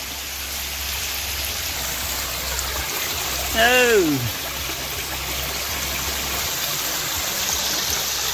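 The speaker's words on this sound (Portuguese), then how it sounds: "Todo lugar que você pensar tem água correndo." River water rushes over rocks near a waterfall in a steady, full, close roar, with a single short exclamation from a person partway through.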